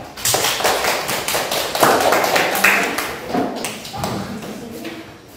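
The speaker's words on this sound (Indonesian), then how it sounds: "Kita berikan tepuk tangan untuk kelompok 3." Students in a classroom clap for group 3 at a teacher's prompt, a loose patter of hand claps and taps that swells and fades over a few seconds, with faint voices mixed in.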